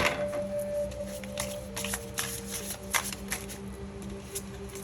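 Tarot or affirmation cards shuffled by hand, a steady soft riffling with scattered sharper flicks and taps as two cards slip out, close and quiet over a faint steady hum.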